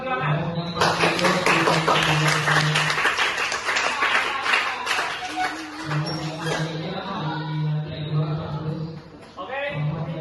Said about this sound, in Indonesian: Kita kasih aplaus dulu kelompok perjuangan.